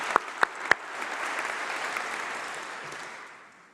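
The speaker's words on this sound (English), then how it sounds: "She deserves another round of applause." A graduation congregation crowd bursts into applause after a student's speech, opening with a few sharp individual claps before building into broad, sustained clapping that fades toward the end.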